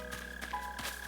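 Mole cricket in Animal Crossing: New Horizons, heard as a steady low burring trill that runs the whole time, with a few soft rustling bursts over it and no talk.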